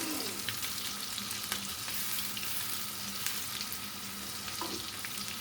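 Steady, close sizzling and crackling of peppers frying in butter and olive oil in a hot pan for menemen, continuous with small pops and no voices.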